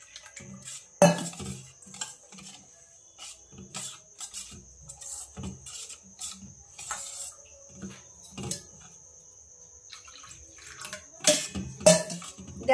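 Semolina is worked with water and salt in a kitchen bowl, giving a sparse series of close clinks and scrapes of utensil against dish with soft wet mixing sounds between them, and no talking.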